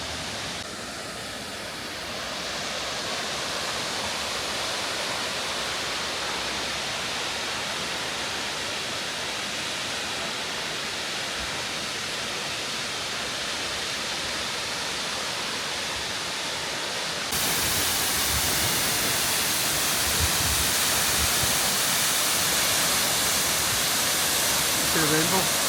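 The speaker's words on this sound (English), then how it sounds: "have came down to the bottom of the waterfall now" A waterfall in Norway roars from close at its base, a loud, unbroken rushing wash that swells even louder near the end.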